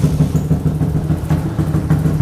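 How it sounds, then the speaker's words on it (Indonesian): An X1R motorcycle engine, just kick-started, idles close by with a steady, rapid low putter, running evenly without any voices. "Sekali tendang, motor ni memang hidup dengan sempurnanya"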